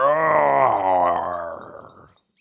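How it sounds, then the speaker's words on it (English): A leopard's roar: a single, close, drawn-out guttural growl with strong harmonic tones, starting loud and slowly falling off and fading out, with nothing else heard. "Like the other big cats, they have a great roar."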